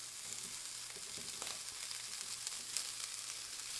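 Cauliflower rice fries in hot oil in a pan, a steady, fairly quiet sizzle with light crackles and a few stirring scrapes, heard alone with no talk.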